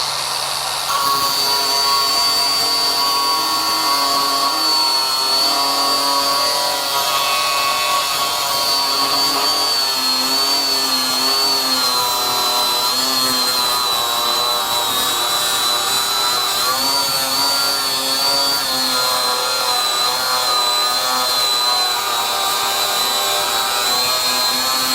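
A DeWalt DCG418 FlexVolt cordless grinder whines at high speed through a continuous cut, its bright tonal scream wavering slightly in pitch as the disc loads and eases, loud and close throughout with no talk.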